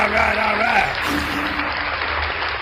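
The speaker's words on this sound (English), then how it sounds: "Round of applause for Van Valiant, ladies and gentlemen" A crowd gives a steady round of applause, dense continuous clapping that holds evenly for a few seconds, with a voice speaking over it at the start.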